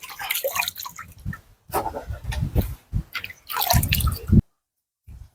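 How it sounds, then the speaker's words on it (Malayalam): Water drips and trickles from washed buffalo kidney draining in a rubber basket, coming in uneven close bursts with short gaps, then stopping abruptly near the end. "വെള്ളം വടിഞ്ഞു പോട്ടെ പറഞ്ഞിട്ടാണ് ഈ പാത്രത്തിലിട്ടത്"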